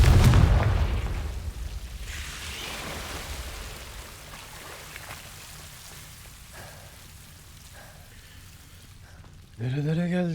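The Confringo explosive spell cast in the video game Hogwarts Legacy, a loud booming burst up front that rumbles and fades into a low crackling tail, followed by a short bright magical swell.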